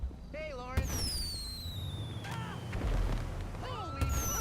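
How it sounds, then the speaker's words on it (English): Fireworks bursting at night in GTA 5, several sharp booms with whistling rising streaks at the start, middle and end, over a constant background rumble. "It's just fireworks."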